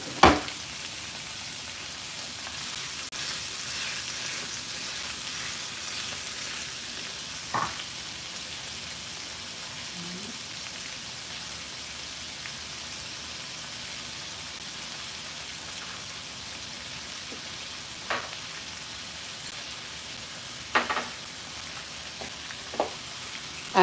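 Shrimp for a teriyaki stir fry sit frying undisturbed in a pan, making a quiet, even sizzle with a few soft clicks and taps scattered through it.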